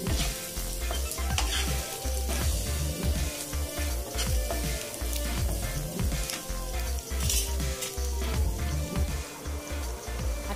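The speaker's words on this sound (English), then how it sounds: "Add 1/4 tablespoon of pepper powder. And roast it for 5 minutes." Mutton roasting in a pan with pepper powder, a steady close sizzle with repeated scraping and stirring strokes of a utensil against the pan, continuous throughout.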